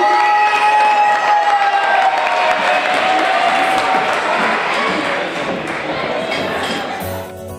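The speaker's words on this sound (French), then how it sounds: "à travers vos applaudissements" A large crowd at a sports awards evening applauding and cheering loudly and continuously, with whistles and shouts, slowly fading toward the end.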